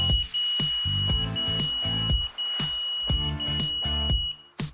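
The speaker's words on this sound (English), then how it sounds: "Test the device alarm." Liberty NightEye sump pump monitor sounding its alarm test: a loud, repeating electronic beep pattern of short tonal pulses with steady high-pitched whine, close and alone with no talking.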